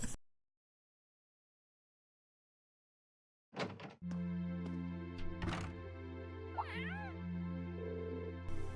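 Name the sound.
cat meowing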